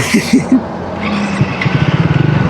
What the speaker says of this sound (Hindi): चलिए टॉर्क टेस्ट करता है इसका।